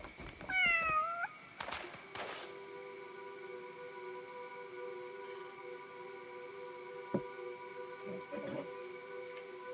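An in-game pet cat in Crimson Desert gives a few short, rising meows near the start, then a steady electronic hum carries on quietly with a couple of faint knocks.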